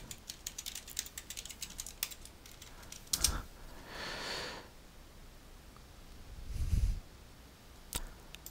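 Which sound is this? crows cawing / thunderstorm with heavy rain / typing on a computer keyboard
typing on a computer keyboard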